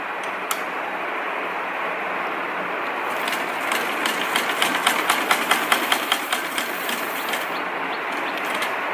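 A sewing machine stitches fabric close by. A steady motor hum runs throughout, with a rapid ticking needle rhythm that grows more distinct partway through and then eases.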